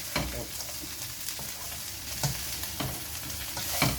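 Chilli chicken frying with curry leaves, coriander leaves and garam masala, a steady crackling sizzle with stirring scrapes and a few sharp pops, close and continuous with no talking.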